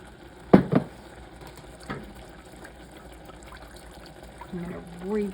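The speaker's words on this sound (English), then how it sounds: "Now I'll add the other half of my milk." Milk pours into a pan on the stove, a soft liquid splash and trickle with a brief louder gush near the start and a gurgling pour toward the end.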